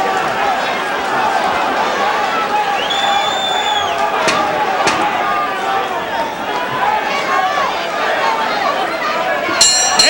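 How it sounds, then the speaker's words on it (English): A crowd at a boxing match roars and chatters steadily through the whole stretch, a loud, sustained wash of cheering with a few sharp thuds and whistles rising over it. "Big cheers from the crowd."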